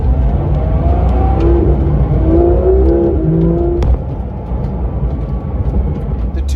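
A 2019 Porsche 911 GT3 RS (991.2) driving, its engine droning loud and near with rising and falling rev tones, then easing to a lower steady hum about midway.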